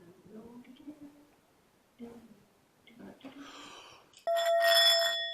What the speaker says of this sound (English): It's a vibrating bowl.